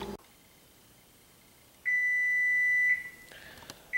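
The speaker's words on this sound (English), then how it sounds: "now that the alarm has gone off, let's go check our pie." An electronic kitchen timer alarm sounding while a pie bakes: a single steady high-pitched beep held for about a second in a quiet room, then softer faint tones.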